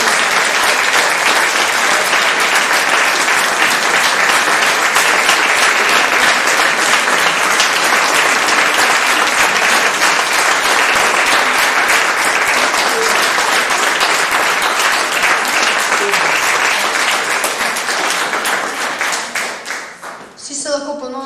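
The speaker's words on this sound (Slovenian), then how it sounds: "še en aplavz najboljšim srednješolskim pesnikom" Sustained, loud audience applause at a high school poetry competition award ceremony, dense steady clapping lasting about twenty seconds before tapering off at the end.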